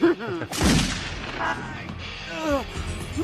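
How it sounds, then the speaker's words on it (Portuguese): A gunshot rings out in a film scene, a sharp loud crack followed by a booming tail, with voices speaking before and after it. "Ele atira! Ele acerta!"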